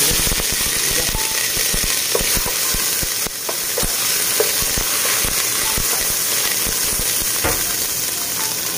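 Cooking oil sizzles and crackles steadily in a hot pan while preparing bupis, a dense continuous frying hiss dotted with sharp pops, loud and close with no talking.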